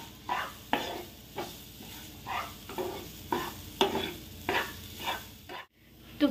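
Ground moong dal cooking with masala in a pan, a soft sizzle under regular scraping strokes of a spoon stirring, about once a second, close and moderately quiet, without voices.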